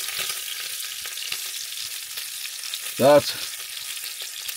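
A steak fries in a pan inside a VW T5 camper van, sizzling with a steady crackling hiss throughout, with a short spoken word briefly over it.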